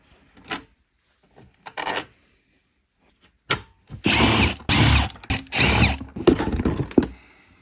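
A power drill or impact tool works on the clutch cover of a flooded Polaris Sportsman 500 ATV during repair: a few short quiet bursts, then several loud close whirring runs in quick succession.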